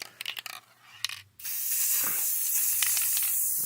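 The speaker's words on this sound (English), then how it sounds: "Now I'm going to use black spray paint." Black aerosol spray paint hissing steadily from a can onto a styrofoam game shelf, a continuous loud spray after a few short clicks and rattles.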